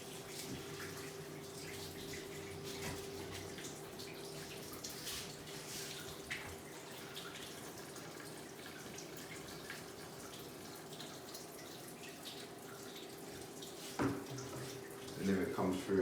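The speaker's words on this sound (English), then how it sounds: "So the water's gonna come in from here, probably at around that sort of pace." Water trickling and flowing through a test waterfall in a paludarium build, a steady faint splashing stream with a few louder drips and splashes near the end.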